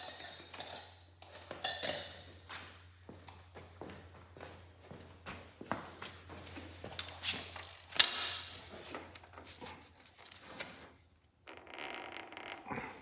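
Tools work on bolts during a Cub Cadet 2181 Super Cub transmission install, with quiet intermittent metallic clinks, ratchet-like creaks and scrapes, plus a sharp clank partway through, under a faint low hum.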